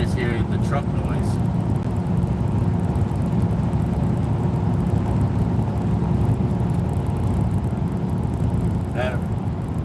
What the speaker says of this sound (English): Or you just hear the truck noise?